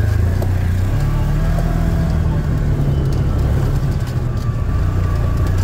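A Kubota Sidekick RTV XG-850 utility vehicle drives through Wisconsin snow in low gear. Its engine gives a steady, fairly loud drone that rises slightly in pitch, and there is no talk.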